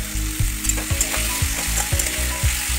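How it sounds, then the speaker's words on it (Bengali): Chopped tomato, capsicum and onion fry in a pan, a loud, close, steady sizzle with regular scraping stir strokes roughly every half second and no talking. "টমেটো কুচি দিলাম, ভালো করে নাড়াচাড়া করে নেবো এটাকে"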